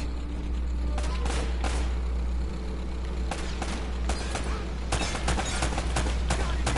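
Gunfire shootout in the video game Uncharted, with bursts of shots and scattered single cracks over a steady low rumble of battle noise, moderately loud throughout.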